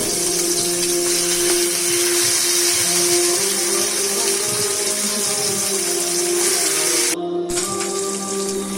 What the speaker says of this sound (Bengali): ফ্রাই প্যান চুলায় বসিয়ে তেল গরম করে মাছ আস্তে আস্তে ছেড়ে দিলাম